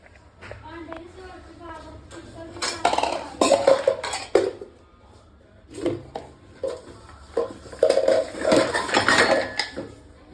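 Pots and utensils clatter and clank in bursts as someone rummages through them in a village kitchen, with people talking in between.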